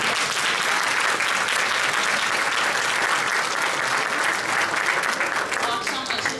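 A crowd at the Ankara Circassian Association's season opening gives sustained, loud applause, a thick wall of clapping that stays steady before easing slightly at the end.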